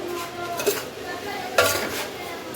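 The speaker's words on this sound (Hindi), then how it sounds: "तो अभी मिक्स कर लेते हैं।" A spoon scrapes and clinks in a dry dish while turmeric, spices and salt are mixed for homemade Indian pickle, giving two brief, close knocks over a quiet background hiss.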